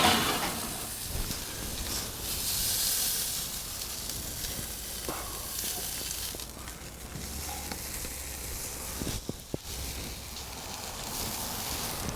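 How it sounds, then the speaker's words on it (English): A ribeye steak sears on an SNS Grills Master Kettle, a steady close crackling sizzle that runs unbroken for about twelve seconds, with a few faint knocks and shifts partway through. "Got a nice sear happening there."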